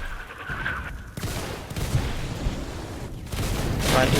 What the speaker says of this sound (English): that's artillery from inside